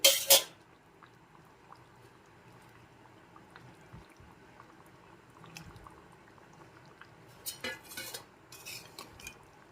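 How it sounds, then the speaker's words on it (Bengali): A ladle stirs rohu fish curry with raw mango and mustard as it boils in a pan: soft metallic scrapes and clinks over a quiet bubbling simmer, close by with a louder clatter near the end. "এখন মাছগুলোকে একটু মিশিয়ে ফুটিয়ে নিচ্ছি"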